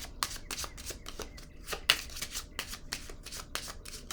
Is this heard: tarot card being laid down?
yes